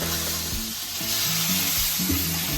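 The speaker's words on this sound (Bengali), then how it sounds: "খুব কষাবো না, হালকা কষাবো।" Pointed gourd sautés lightly in oil with salt and cumin-chili paste, giving a close steady sizzle with rhythmic stirring strokes of the spatula, no voices.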